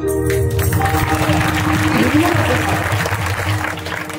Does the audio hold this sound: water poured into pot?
no